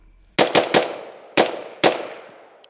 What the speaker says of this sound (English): present rifle from any ready position and fire 3 rounds into the chest box and immediately engage another 2 rounds to the head box